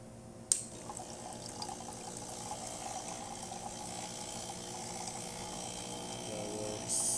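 Hot water runs from a Breville Oracle Touch espresso machine, a steady close hiss and gush that starts with a sharp click and flows evenly for several seconds, with no talk over it.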